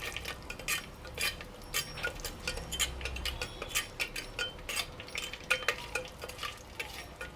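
A spoon scrapes and clinks against a cooking pot as whole cumin, dried red chillies and whole garam masala are stirred for handi chicken, making a quick, irregular rhythm of close taps and rasps with no talking.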